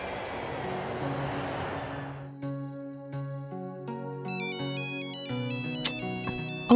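A mobile phone ringtone plays alone, a bright electronic melody of stepped tones that starts after a short stretch of noisy background and repeats steadily, fairly loud and close.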